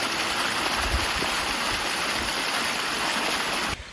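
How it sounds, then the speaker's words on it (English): Steady rushing water of a small waterfall, close and continuous, with a faint thump near the start and an abrupt cut at the end. "there's even a little waterfall over there."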